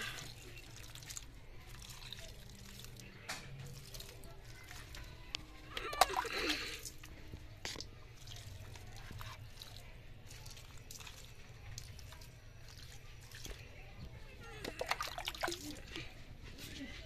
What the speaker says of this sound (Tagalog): Diligan ko sila ng tubig ulan.